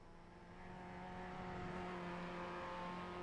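Global Mazda MX-5 Cup race car engine in iRacing droning steadily and swelling slightly louder, a continuous buzzing hum with no talking.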